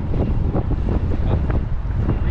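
Wind gusts buffet a small fishing boat at sea, a loud, rumbling roar with surging pulses and faint water movement beneath, no voices.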